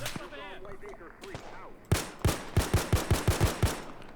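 Incoming artillery fire in the World War II shooter Arma 3 Spearhead 1944: a voice gives way to a sharp close blast, then a rapid run of about nine punchy booms in quick succession.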